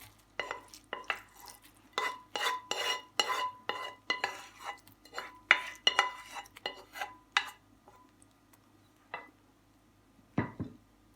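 A fried, cooled filling is stirred into risen dough in a bowl, giving a series of close, rhythmic scraping and clinking strokes that thin out and stop near the end.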